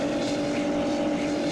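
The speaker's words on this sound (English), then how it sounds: "Maybe we want a different engine sound, because that one, it kind of sounds like a vacuum cleaner" A steady engine drone from a vehicle built in Garry's Mod, with a whiny, vacuum-cleaner-like tone. It hums continuously at an even level throughout, alone and fairly close, with no pauses or changes in pitch.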